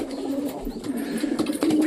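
Pigeons coo indoors in a room with a baby kept as a pet, the low, rolling calls repeating steadily and fairly close throughout, with faint background noise.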